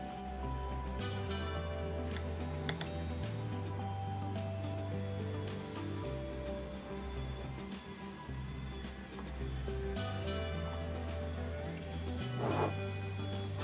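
Test run of a homemade 1/14 scale portable topsoil trommel screener: a low motor hum that steps on and off in pulses, with faint rubbing and clattering over it.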